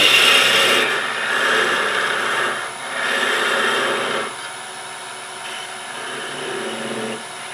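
Wood lathe parting off a turned wooden spin top, a continuous close rasping, scraping cut with slight swells in intensity, fading to a quieter rub toward the end; no talking.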